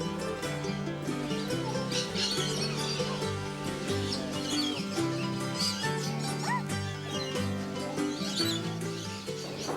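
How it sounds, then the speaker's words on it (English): A busy chorus of tropical birds calling and chirping, with varied whistles and squawks over a constant background murmur, fairly close and continuous, near Cairns, Australia. "a fantastic collection of tropical birds"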